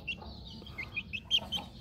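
A hen clucks in short, soft bursts close by, a quick series of throaty calls with quiet background noise.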